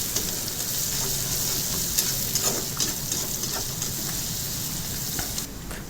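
Finely chopped medium onion with curry leaves frying in a pan over high heat gives a steady, close, dense sizzle that holds evenly throughout with faint crackles and stirring, and no voices.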